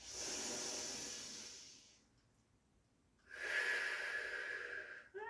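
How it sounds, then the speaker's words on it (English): Deep Pilates breathing, close and intimate: a long, airy inhale, a brief quiet hold, then a strong, hissing exhale through the mouth. "So we breathe in deep and wide, feel your rib cage expand."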